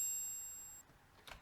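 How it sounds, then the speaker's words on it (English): An unprocessed small bell sample rings as a clear, high, pure tone that decays over nearly a second, followed by faint clicks and a brief bright burst. "It's just a little bell sound,"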